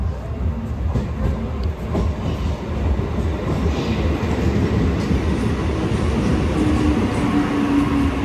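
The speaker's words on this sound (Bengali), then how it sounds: "এখন ট্রেন ঢুকছে" A train pulls into a station with a steady rumble and clatter of wheels on rails that builds gradually, and a brief high squeal rises near the end.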